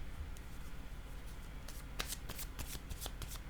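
Tarot cards are shuffled and drawn by hand, making soft papery riffles and flicks in quick irregular bursts, quiet and close, with no talking.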